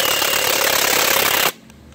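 Milwaukee M18 half-inch cordless impact gun hammering a lug nut loose during a tire swap, a loud continuous rattling burst lasting about a second and a half, then cutting off abruptly to quiet.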